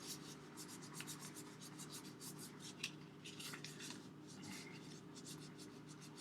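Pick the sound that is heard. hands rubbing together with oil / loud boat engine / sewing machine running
hands rubbing together with oil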